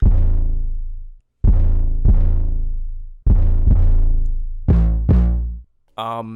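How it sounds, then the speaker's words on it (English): Deep 808 bass notes hit in a repeating pattern, each long boom decaying before the next, with a quicker pair of hits near the end. "we have the first 808 pattern, which is going to sound like this."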